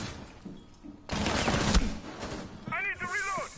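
A short, loud burst of rapid gunfire rings out during a competitive esports video game match between Complexity and Nexecute, followed by an excited commentator talking over softer game sounds.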